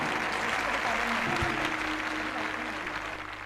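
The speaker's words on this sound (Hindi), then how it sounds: "सभी जन जोर से तालियों के साथ परमेश्वर का धन्यवाद करें" A congregation at a morning prayer meeting applauding in thanks to God, a sustained, dense clapping that holds steady throughout, with a faint tonal hum and a brief thump midway.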